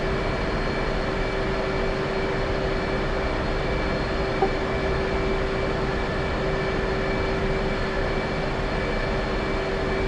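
Aircraft engine idling in a flight simulator video game on a taxiway, a steady droning hum with a faint whine, fairly quiet and unbroken, no talk.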